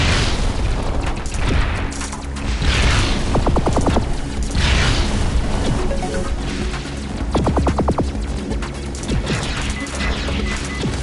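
Missiles blasting apart targets in the shoot-'em-up game Sky Force Anniversary, a dense, loud barrage of booming explosions and crashes with rapid rattling bursts, continuous throughout and with no talking.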